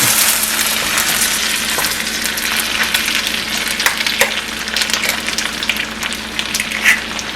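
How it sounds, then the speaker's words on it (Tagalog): An egg fries in a hot pan beside rice noodles for Pad Thai, giving a dense, steady sizzle with a few sharper crackles and pops, close and loud throughout, with no talking. "Lutuin natin yung egg dito sa side."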